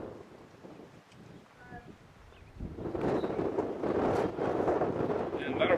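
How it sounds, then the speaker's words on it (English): Gusty wind buffets the microphone at an outdoor blitzball game, rising from a quiet start into a loud, rough roar that holds for several seconds while a voice talks underneath. "with the wind starting to pick up a little bit here, to say the least"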